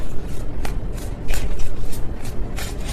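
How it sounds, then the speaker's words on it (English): Tarot cards are shuffled loosely and unevenly, a rapid ruffling patter of card edges close by, loud and continuous with uneven riffle bursts and no voices. "That was a sloppy shuffle."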